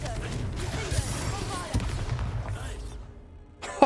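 A Confringo blast spell in Hogwarts Legacy, heard as a burst of explosive crackling and booming impacts that rolls for a few seconds and fades, followed by a brief sharp hit at the close.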